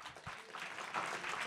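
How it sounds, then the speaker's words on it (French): An audience applauds a panel of specialists at a French film and series forum, a steady wash of many hands clapping at moderate distance, fairly soft throughout. "on peut les applaudir parce que c'était super"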